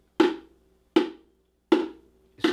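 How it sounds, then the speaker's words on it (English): Four light front-hand touches on a bongo drum, each a short, close, dry tap with a brief ringing tone, evenly spaced about three quarters of a second apart, with no voices. "I'm just touching it with the front like this, light. It's a front touch."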